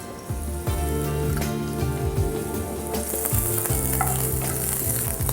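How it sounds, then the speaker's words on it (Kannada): Garlic frying in oil in a pan for a tomato saaru, a steady close sizzle with scattered spattering pops and occasional stirring scrapes, no talk. "ಈ ಥರ ಬೆಳ್ಳುಳ್ಳಿ ಸ್ವಲ್ಪ ಲೈಟ್ ಬ್ರೌನ್ ಕಲರ್ ಬರೋಂಗೆ ಸ್ವಲ್ಪ ಇದನ್ನು ಫ್ರೈ ಮಾಡಬೇಕು"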